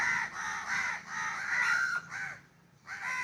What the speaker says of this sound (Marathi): तर इकडं कावळा इथं भरपूर असं